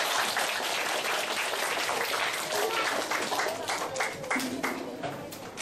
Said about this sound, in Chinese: 请大家热烈掌声。